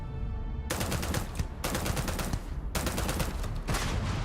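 Enemy gunfire in the video game Starfield: loud, rapid automatic bursts, three long volleys separated by short pauses, close and harsh with no talking.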